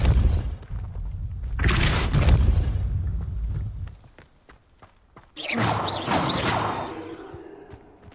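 A Depulso force spell cast in Hogwarts Legacy, a heavy booming burst with a rushing whoosh, a brief quieter lull, then a second crackling surge of magical energy that slowly fades.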